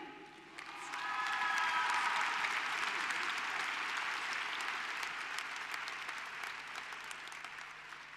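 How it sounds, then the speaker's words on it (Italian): An audience at a roller skating event bursts into sustained applause, a dense, steady wash of clapping that swells after a second and continues for several seconds, with faint cheering mixed in. "Vi chiedo la cortesia di accoglierlo con un grande applauso"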